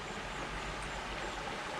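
Steady, faint broadband rush of the River Fowey flowing in Cornwall, continuous and even across the short moment with no voices.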